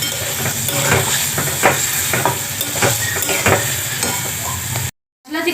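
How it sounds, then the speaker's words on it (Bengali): Spice paste being sautéed with a little water in a pan for a Bengali elephant foot yam and rupchand fish curry, giving a loud, close sizzle and hiss with repeated stirring scrapes that cuts off briefly near the end. "অল্প অল্প জল দিয়ে আমি মশলাটাকে ভালো করে কষিয়ে নেব"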